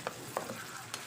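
Ginger and other ingredients sauté in a pan with a soft background sizzle, punctuated by a few quick scraping stirs of a utensil, close and fairly quiet.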